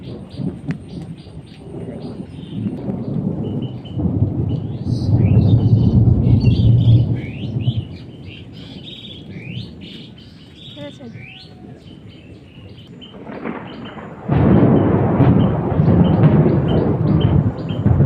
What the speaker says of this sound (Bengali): এত বৃষ্টি হচ্ছে, প্লাস মেঘ ডাকছে।